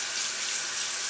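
Hot water pours steadily from a tap, a loud, close, continuous hiss and splash with no break and no voices.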